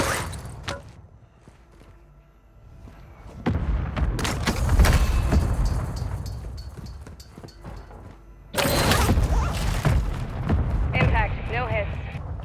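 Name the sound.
mortar strike explosions in a video game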